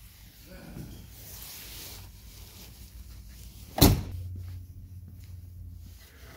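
The heavy hood of a 1973 Mustang Mach 1 is lifted with a metallic creak and rustle, then a single sharp clunk as it catches, followed by a low steady hum; no one speaks.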